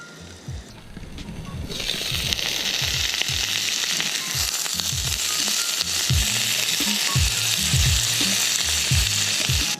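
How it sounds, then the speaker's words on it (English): Asparagus sizzles on a grill alongside steak, shrimp and potatoes, a loud, continuous frying hiss that surges up after a quieter start, with low rhythmic rumbling beneath it. "Gonna add our asparagus. Let that cook for a while."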